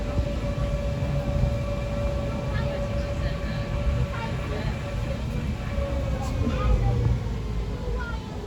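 A steady low rumble and hum of a slowing monorail train rolling along, continuous and fairly close, with a faint tonal whine over it.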